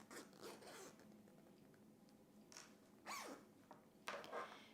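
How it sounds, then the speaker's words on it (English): A dress zipper is drawn closed in several short, faint rasping pulls close by, with quiet pauses between strokes. "Okay, we can go ahead and close our zipper."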